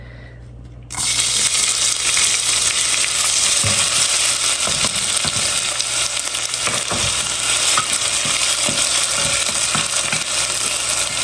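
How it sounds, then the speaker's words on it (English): Diced onion dropped into hot oil in a saucepan and stirred often, bursting into a loud continuous sizzle after a quiet first second, with occasional scrapes and taps of the spoon, close up. "you're going to cook this in hot oil, stirring often"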